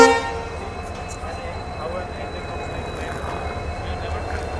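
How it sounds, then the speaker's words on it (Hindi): An EMD WDP 4D diesel locomotive, 40125 from the Tughlakabad shed, hauling an express train, holds a steady low engine hum with a faint tonal whine through the whole stretch, heard at a moderate distance. "EMD की साउंड भाई इसीलिए पसंद है मेरे को यार, EMD का ये जो आती है ना हमिंग साउंड"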